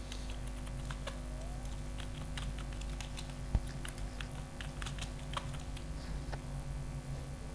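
Keys clatter on a computer keyboard as an address is typed, a quiet steady patter of taps with a few sharper clicks, close and alone without voices.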